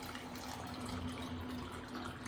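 Water running steadily into a small bowl set out for birds, a continuous close rushing fill with a faint tonal hum beneath it, no voices.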